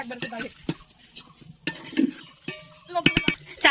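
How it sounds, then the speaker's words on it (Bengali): Raw rice being fried and stirred in a pot for pulao: a spoon scrapes and clacks against the metal in irregular bursts over a faint sizzle. "চাল ভাজা ভাজা হয়ে গেছে, এবার জল অ্যাড করবো"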